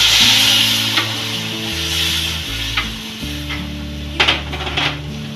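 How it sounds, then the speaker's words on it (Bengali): A spoon stirs semolina and milk in a frying pan over low gas, with a steady sizzle and occasional scraping clinks against the pan. Quiet music plays underneath. "দুধটা দিয়ে তখন থেকে নেড়ে যাচ্ছি।"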